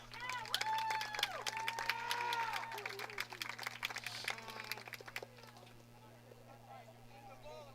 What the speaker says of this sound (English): let's have a round of applause for all the ball kids helping out here tonight